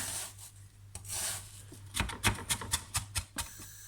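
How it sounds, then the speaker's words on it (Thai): A knife finely chopping onion on a cutting board for an Italian crab pasta sauce: a quick run of about eight sharp, close chops after a stretch of softer rubbing and scraping. "ผู้ช่วยต้องมา สับหัวหอมนะคะหัวหอมครั้งนี้สับละเอียดนะคะ"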